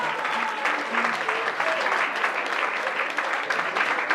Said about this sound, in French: On acclame Blanche.